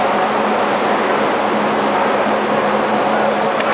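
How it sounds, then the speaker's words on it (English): A Chicago Metra train at a station gives a loud, steady rumble with a faint hum and light clatter, continuous and close, with no clear talk. "And now we're at Metro waiting for our train."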